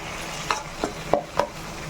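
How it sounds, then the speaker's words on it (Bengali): A utensil stirring fried shrimp and onions with green chili in a pan, four light scraping taps at an uneven rhythm over a soft sizzle, close and clear with no talking. "এবার ভালো করে একসাথে আমি নাড়াচ্ছি।"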